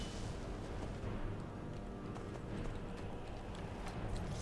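Horse hooves galloping in the video game Skyrim, a steady rapid clip-clop rhythm that carries on throughout over rumbling ambient noise.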